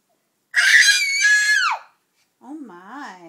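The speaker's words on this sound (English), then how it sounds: "Are you yelling at mommy?" A baby lets out a loud, sustained yell that rises and falls, then breaks off; after a pause, softer wavering vocal sounds follow.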